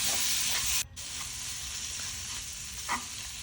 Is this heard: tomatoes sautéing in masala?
yes